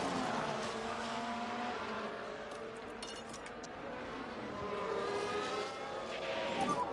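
Formula 1 race cars on the Monaco street circuit in F1 Manager 23 roar continuously, engine pitch climbing and shifting as cars pass and accelerate toward the chicane, a dense loud mechanical drone throughout.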